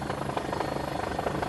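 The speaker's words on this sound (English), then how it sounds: "the helicopter's circled round me again" Helicopter in steady flight circling overhead, a continuous thudding rotor drone that stays loud and close throughout with no voices.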